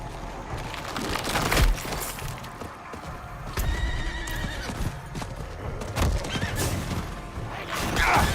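A horse in Diablo 4 whinnies and its hooves clip-clop steadily at a ride, with occasional clattering and crashing bursts from the game around it.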